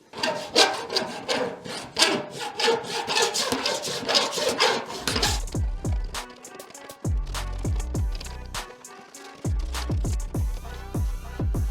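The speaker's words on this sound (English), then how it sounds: "I got to do a bunch of filing now and then we'll finish it up real quick." Hand filing of lead body filler on a 1950 Chevy, heard as close, rhythmic rasping strokes, dense and busy at first, then slower separate scraping passes with low thumps between them.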